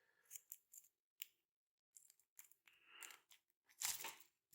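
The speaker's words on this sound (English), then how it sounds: "take this out with some scissors" Quiet, close snips and crinkles as scissors cut through toy packaging for Masters of the Universe Eternia Minis, in short irregular bursts with pauses between.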